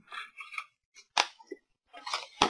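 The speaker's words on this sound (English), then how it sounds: "all we're going to do there is we're going to fold up your box" Paper card stock is folded and creased into a small gift box for 2x3 cards, a series of close, crisp crinkles and sharp paper snaps separated by brief pauses.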